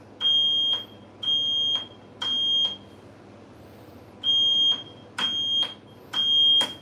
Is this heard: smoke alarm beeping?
yes